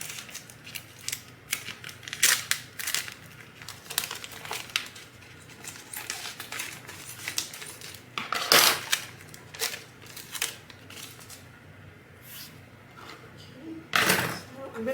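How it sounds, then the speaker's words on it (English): Vinyl transfer tape for a craft sign is trimmed to size with scissors in a series of sharp snips and crinkles of tape spread over several seconds, close by, with a person talking at times. "I'm going to take this transfer tape and I'm just going to chop it down so it's a little bit smaller."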